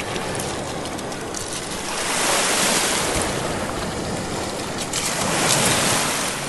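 Waves wash against the rocky shore of Lake Superior, a continuous broad roar swelling and receding in slow surges, with wind buffeting the microphone and no voices.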